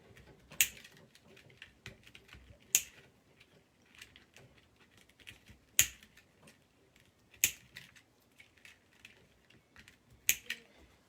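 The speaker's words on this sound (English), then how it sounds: "I'm just gonna cut those off." Cutting off the ends while assembling a Canada-themed craft wreath: a handful of sharp, isolated snips spaced a couple of seconds apart over a quiet background of faint rustling.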